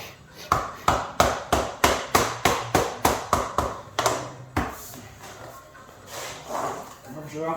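Luxury vinyl flooring boards laid over underlay being tapped into place with the back of a hammer, a rapid series of about a dozen sharp, evenly spaced knocks followed by a few softer, scattered taps.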